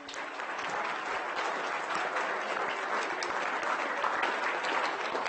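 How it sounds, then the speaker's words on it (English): Loud, sustained applause from a conference audience at a corporate evening event, steady dense clapping filling the whole stretch with no talk over it. "A round of applause."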